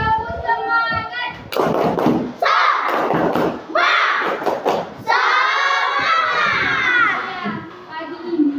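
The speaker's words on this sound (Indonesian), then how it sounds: "pagi ini kita tepuk semangat dulu. Tepuk semangat." Schoolchildren in a classroom perform a rhythmic spirit clap, their loud chanting voices rising and falling in bursts between sharp clap and thump accents, close and lively.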